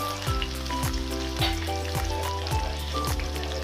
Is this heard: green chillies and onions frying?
yes